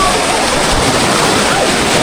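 High sea waves roll in at the shore, a loud continuous rush of surf filling the scene with no clear breaks.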